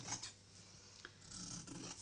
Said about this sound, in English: So I'll use my scissors. So let's cut this down.